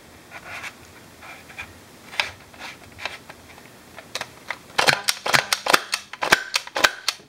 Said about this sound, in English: This one has a much louder bang to it.